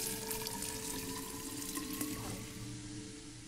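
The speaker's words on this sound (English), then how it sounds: "Turn on the faucet." Running water from a faucet in the horror adventure game Fran Bow, a steady broadband hiss and splash that fills the scene continuously without breaks.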